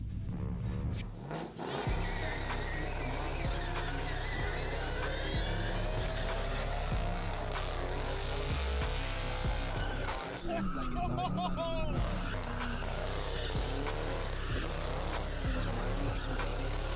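A rebuilt Ford Mustang drives and slides with continuous engine roar and screeching tires, loud and close throughout, with people talking over the noise.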